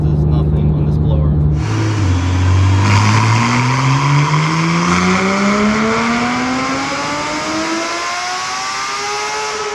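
A Procharger-supercharged Porsche GT3 RS engine on 6 pounds of boost revs high toward 9,000 RPM, a loud, close, rising scream that climbs steadily in pitch and then holds, with people talking underneath.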